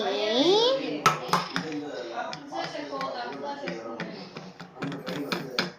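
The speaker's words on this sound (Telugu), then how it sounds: "నేను ఒక చిన్న స్పూన్లో కలుపుకుంటాను" A small spoon stirs in a bowl, tapping and clinking against the sides in quick, irregular strikes. A person talks over the clatter.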